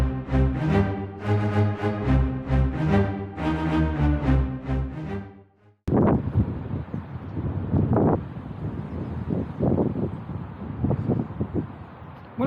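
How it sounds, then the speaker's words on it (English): Strong wind from a storm buffets the microphone aboard a narrowboat in rumbling gusts after a stretch of music cuts off abruptly. "Well, it's still quite windy."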